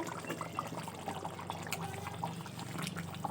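Chicken curry gravy with potatoes bubbling in a covered pot, a steady close simmering and gurgling that runs unbroken throughout, with small liquid pops scattered over it and no voices.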